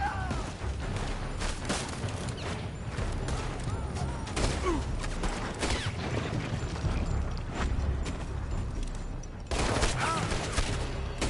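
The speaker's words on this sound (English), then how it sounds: "They're shooting from that building!" Gunfire in the video game Red Dead Redemption 2, with scattered shots cracking from a building amid a busy battle din, fairly distant and continuous, while voices shout under the fighting.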